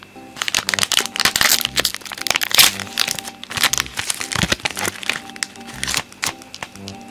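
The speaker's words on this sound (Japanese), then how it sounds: "4ボックス目開封していきたいと思います" Dragon Ball sticker wafer packs from a box are torn open and handled up close, with loud, continuous crinkling and crackling of plastic wrappers in irregular bursts and no voices.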